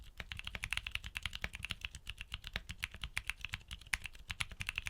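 A keyboard fitted with Gazzew U4Tx tactile switches types fast and continuously. The keystrokes are dense and crisp, recorded close and fairly quiet, and no one talks.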